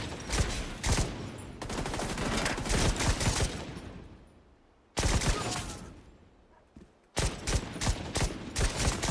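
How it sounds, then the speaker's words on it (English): Gunfire in The Division 2, repeated rapid bursts of automatic shots and scattered single cracks, loud and close, broken by short pauses between volleys. "I hear gunfire."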